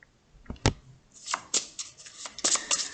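Oracle cards being shuffled for a tarot-style reading, a run of quick papery riffles and flicks with a couple of sharper taps, close and fairly soft, with no talking.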